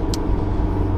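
A 1990s Toyota MR2, freshly back from a major service, drives out of town with a steady, low engine and road rumble inside the cabin and no pauses.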